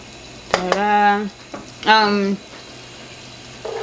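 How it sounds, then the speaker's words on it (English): A roux cooking in a pan for shrimp pasta, a soft background sizzle with brief stirring scrapes, while a person talks over it in short bursts. "So that's why I'm making a roux."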